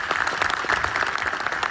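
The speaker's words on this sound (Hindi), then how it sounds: "उनके लिए तालियां बजाएं।" A dense burst of audience applause at a gathering in honour of several people, steady and fairly loud with many hands clapping together throughout.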